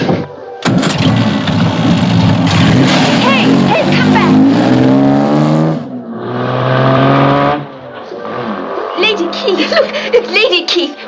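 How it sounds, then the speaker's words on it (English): A car engine starts and revs as the vehicle pulls away in a 1949 British film scene, loud and steady under voices and dense harmonic sound, with a brief drop before the engine noise resumes. "Williams has taken Joanna Benbow away in Quentin's car"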